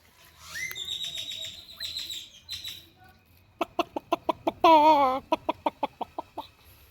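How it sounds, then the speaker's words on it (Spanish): A rooster clucks a few times, then after a pause gives a short run of sharp, rhythmic calls that rise into one loud, strained crow before more clipped clucks. "fue el gallo."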